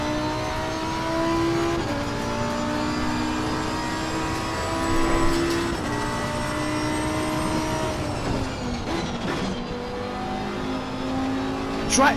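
A race car engine drones steadily in Assetto Corsa Competizione on PS4, a loud, sustained whine shifting in pitch as the car accelerates, with a clear downshift or lift near the end, heard alone without talk.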